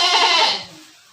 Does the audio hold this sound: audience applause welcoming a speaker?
no